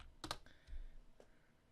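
Typing on a computer keyboard during game-engine animation work, a few quick, faint clicking keystrokes heard close up against a quiet room background.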